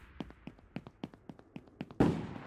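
Gunfire from the multiplayer video game Boss Fighters: a quick series of sharp, light shot pops at an uneven rhythm, followed by a louder, fuller blast near the end, heard without talk.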